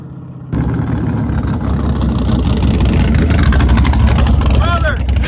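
A nitrous-powered drag car launching down the track, a loud, sustained low engine roar that builds after a sudden start, with voices shouting over it.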